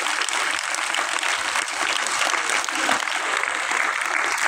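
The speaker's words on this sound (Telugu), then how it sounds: "ఒకసారి క్లాప్స్ కొట్టండి." Sustained, dense applause from a large audience at a Telugu student motivational talk, a steady roar of many hands clapping throughout without pause.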